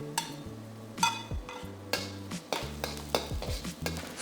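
Garlic and green onion whites frying with ginger in a pan, a soft sizzle broken by repeated clattering scrapes of a utensil stirring against the pan, close and rhythmic, with no speech.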